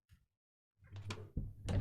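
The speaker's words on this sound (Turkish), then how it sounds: "ben şu kapıyı kapatayım" A door is pushed shut indoors, a short scuffing swing followed by a couple of close thumps as it latches.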